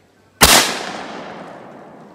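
A single loud shotgun blast at clay targets, a sharp crack followed by a long fading outdoor echo, heard alone without talk.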